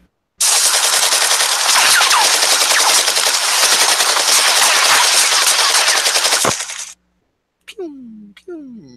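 A machine gun sound effect fires one long, loud, rapid burst lasting about six seconds, followed by a few faint, brief chirping sounds.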